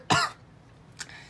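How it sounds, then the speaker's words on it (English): One sharp, close cough followed a moment later by a shorter, softer second cough, heard alone in a quiet room. "I'm just coughing. I got something stuck down my throat."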